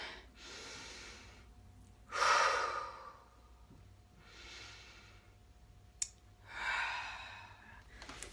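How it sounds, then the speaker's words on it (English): Slow, deep belly breaths, four long airy inhales and exhales close to the microphone at a calm, even pace, with a faint click between them and no talking. "you want to keep taking deep, deep belly breaths"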